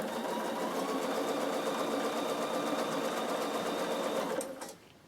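Bernina sewing machine stitching down the layers of a summer peak cap, a steady continuous hum with fine rapid ticking that runs close and even, then winds down and stops near the end.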